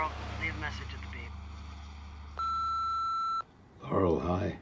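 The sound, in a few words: voicemail beep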